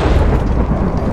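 Lightning strikes in Minecraft, heard as a loud, dense rumble of thunder filling the whole brief moment, heavy and low with no break.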